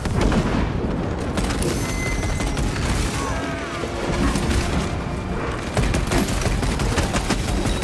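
Loud, dense gunfire and booming blasts from a crash grenade in the Warhammer Space Marine II video game, a continuous barrage of shots and explosions with a brief voice shouting over the battle.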